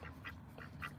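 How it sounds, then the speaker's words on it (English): Pet duck named Lucky Duck, a house-living duck out in a California ranch garden, gives a few short nasal quacks in bursts, moderately close over a low steady background hum. "We brought Lucky Duck out here, which is our duck that actually lives inside the house."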